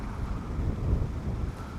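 Wind buffets the microphone on a fishing bank in November, a steady, rumbling low roar with no other clear sounds.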